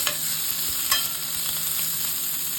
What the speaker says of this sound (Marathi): त्यामध्ये मी एक मोठा कांदा उभा चिरून घालते थोडासा त्याला मऊ व्हायला जायचंय